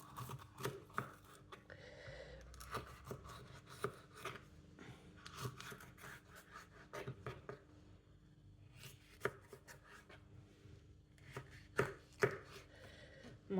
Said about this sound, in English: Chop up the red pepper.